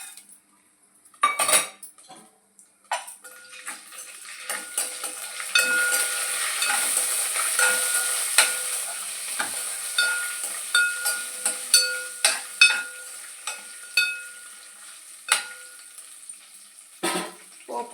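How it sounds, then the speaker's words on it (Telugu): Tempering spices such as mustard seeds, cumin, chana dal and dried red chilli fry in hot oil while a metal spoon scrapes and clinks against the pan, with a steady sizzle broken by repeated sharp utensil knocks. "పోపు కొంచెం వేగాలండి."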